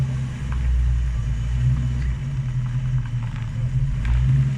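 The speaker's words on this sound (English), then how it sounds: "So listen the engine noise on that." A Ford Mustang's engine runs steadily at a car meet, a loud, deep low rumble held at a fairly even idle with slight swells, close by and with no talking.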